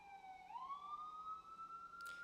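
A single siren wails nearby, its tone sweeping upward and holding high, with a brief burst of noise near the end.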